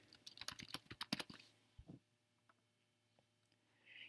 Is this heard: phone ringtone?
no